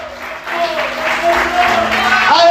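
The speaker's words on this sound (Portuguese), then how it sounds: "Aplauda e exalte ao Senhor nessa noite." A church congregation applauds during an evangelical worship service. Massed clapping rises and swells over sustained keyboard tones, growing slightly louder toward the end.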